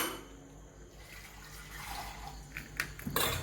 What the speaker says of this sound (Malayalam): കുറച്ച് വെള്ളം ഒഴിച്ച്